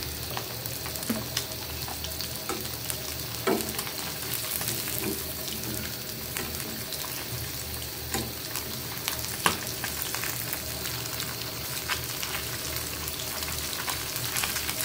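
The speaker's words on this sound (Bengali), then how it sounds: "দেখুন এভাবে লাল লাল করে একটু লাল করে ভেজে নেব" A hilsa fish head fries in hot oil, producing a steady, moderately loud crackling sizzle with occasional louder pops and soft stirring knocks, heard close up with no speech.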